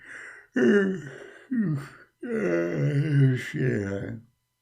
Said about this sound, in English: Let us start yawning.